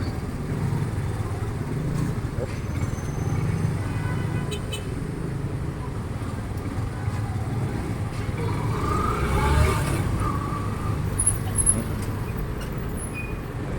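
Busy one-way city street traffic on Ocampo Street (formerly Vito Cruz) in Manila, with cars, buses and motorcycles rumbling steadily and continuously close by, a faint horn toot near the end.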